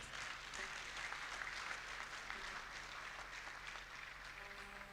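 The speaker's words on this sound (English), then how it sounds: "They deserve a round of applause." Audience applause at a dental school alumni homecoming and fundraising event, a steady, even wash of clapping from a crowd, faint and distant throughout.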